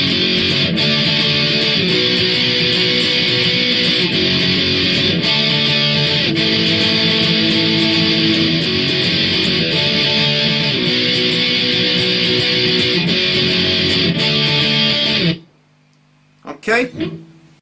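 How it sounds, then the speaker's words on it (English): Electric guitar plays the opening part of a song, dense and loud with repeating chord riffs for about fifteen seconds, then cutting to near silence with a couple of short faint bursts at the end. "Okay, so right back to the start, and it'll sound like this then."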